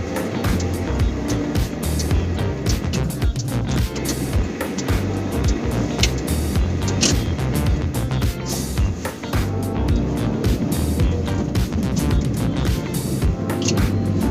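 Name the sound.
Hyundai Xcent 1.2 litre petrol engine while driving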